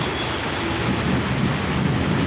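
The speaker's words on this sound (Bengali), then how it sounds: "প্রচণ্ড বৃষ্টি" Heavy rain pouring steadily with a deep rumble of thunder rolling through it, a dense, continuous roar at close range throughout.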